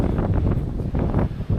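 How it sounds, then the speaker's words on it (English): Strong wind buffets the microphone with a loud, continuous low rumble that swells and dips in gusts, heard alone outdoors beside a paved canal lock during an e-bike trip. "Wind is really bad, so I'll make this short and sweet."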